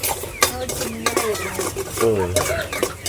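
Garlic fries in butter in a pan with a soft sizzle, and a utensil stirs and scrapes against the pan, close by, while a person talks over it.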